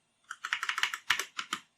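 Rapid, uneven clicking of keys on a computer keyboard, about a dozen close, crisp taps in a short burst with no voices.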